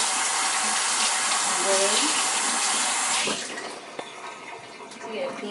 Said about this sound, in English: Rinse the seeds